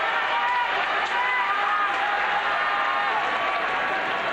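A sumo crowd in the Kokugikan keeps up a dense, continuous roar of noise and applause, steady and loud for the whole stretch with no break.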